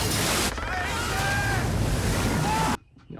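A tsunami wave in the film The Impossible washes people away as a loud, roaring rush of surging water and wind with faint wailing cries inside, cutting off abruptly into near quiet.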